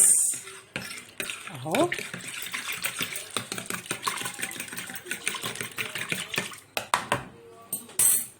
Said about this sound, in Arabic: واقلبه بقى كويس بشوكه كده. اخلط بس المقادير دي كلها كده في بعضها كويس